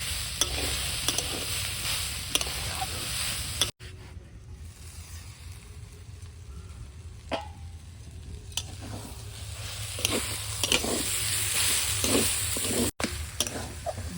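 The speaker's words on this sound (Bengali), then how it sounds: "বারবার নেড়ে দিতে হবে" Taro curry fries in a pan while being stirred, a steady sizzle cut by repeated scraping spoon strokes that grow busier toward the end, close by with no talking.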